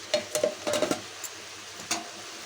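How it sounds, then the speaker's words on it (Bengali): Chicken kosha being stirred in a pan, a spoon scraping and clacking in short bursts, a cluster of strokes then a pause and one more, with a light sizzle underneath. "এখানে একটু চিকেন কষা আজকে চিকেনটা রান্না করছি"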